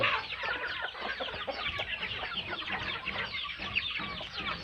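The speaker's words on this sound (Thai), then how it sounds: "ไก่ชนสามเอี่ยวครับ" Several fighting-breed chickens clucking and chattering close by in a busy, continuous mix of short calls, with no talking.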